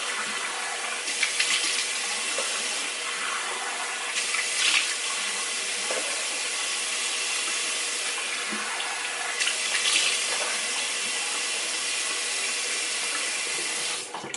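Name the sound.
rinsing face with water from a tap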